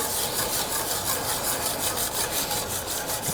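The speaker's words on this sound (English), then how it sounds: "whisk that butter in with the cream" Butter gets whisked into cream in a pan, a rapid, regular scraping swish repeating several times a second, close and steady with no talking.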